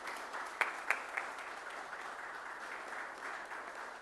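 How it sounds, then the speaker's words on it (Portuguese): Audience applauding at a 30th anniversary commemorative session for SESCON Grande Florianópolis: a faint, distant, steady patter of clapping from a crowd, with a few sharper claps near the start. "peço uma salva de palmas aos 30 anos do SESCOM Grande Florianópolis"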